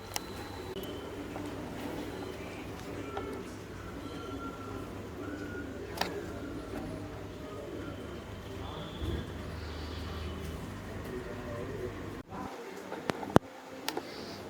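Pigeons coo softly in a racing pigeon loft, low murmuring calls spread through a steady room-like background, with a couple of sharp knocks near the end.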